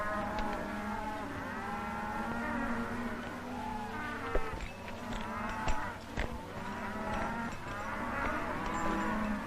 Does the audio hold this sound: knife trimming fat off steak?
no